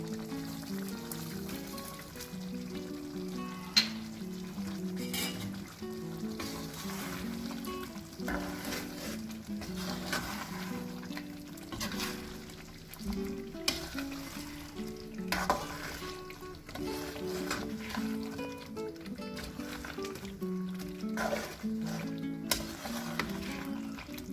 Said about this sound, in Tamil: இப்போ வந்து கிறிஸ்பி ஃப்ரைட் ஆனியன்ஸ் இப்போ போட்டு நான் கிண்ட போகிறேன்